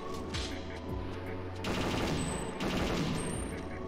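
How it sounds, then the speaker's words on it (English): Rapid gunfire from the Perfect Dark video game, bursts of loud repeated shots over roughly four seconds with a sustained drone underneath and bright metallic impacts. "I'm shooting through this."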